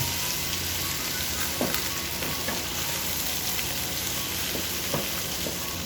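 Garlic frying in a pan for pork adobo gives a steady, close sizzle that runs throughout, with a few soft stirring scrapes and clicks on top and no talking.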